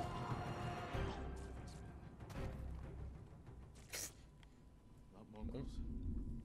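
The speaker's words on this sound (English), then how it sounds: "If you guys heard that thunder." Thunder rumbles through a stormy scene in the video game Ghost of Tsushima, a deep rolling boom with a few sharper cracks over several seconds, fairly close and loud, mixed with other game sounds.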